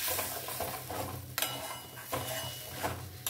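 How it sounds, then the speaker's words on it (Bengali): Spice paste with garam masala being stirred and fried in a pan for a Bengali patol chingri dish, soft sizzling with repeated scraping strokes of a spatula against the pan. "এই মশলাটা আমি এখন দিয়ে দিলাম, দিয়ে সমানে কষাবো"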